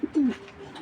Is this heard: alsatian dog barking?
no